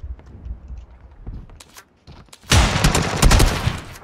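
A loud burst of gunfire erupts in a PUBG match after a quiet stretch of soft footsteps and small noises. The dense, sharp reports fill the last second and a half.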